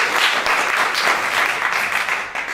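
An improv theatre audience applauding to vote on a performance, a loud, steady wave of many hands clapping close by that holds for a couple of seconds before easing slightly.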